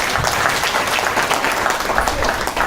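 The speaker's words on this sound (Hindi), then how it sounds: "जोरदार तालियां पर।" Loud, dense applause from an audience at a Hindu devotional talk on Lord Jagannath, steady clapping filling the whole stretch without a break.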